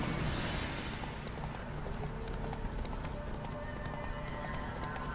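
In The Witcher 3, a horse's hooves clip-clop in a steady, fairly quiet canter rhythm over game ambience, with someone talking at times.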